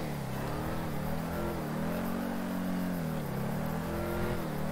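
A V8 car engine in GTA roleplay on FiveM pulls with a steady, loud droning hum and slowly rising pitch, accelerating continuously with no talk over it.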